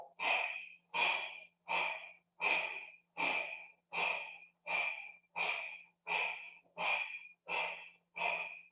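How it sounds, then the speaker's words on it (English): Rapid, forceful nasal exhalations of breath of fire in a kundalini yoga class, eleven sharp bursts at a steady pace of roughly one every 0.8 seconds, close and alone. "we engage a breath of fire here. Rapid pulling of your belly into your spine. Focus on the exhale."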